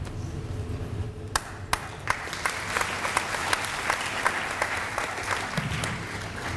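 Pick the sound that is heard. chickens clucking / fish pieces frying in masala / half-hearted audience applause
half-hearted audience applause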